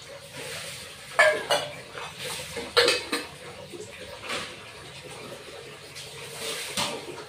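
Metal lid clanks onto a pot of mustard rohu fish curry, a couple of sharp clinks and scrapes over a soft simmer, close and fairly quiet.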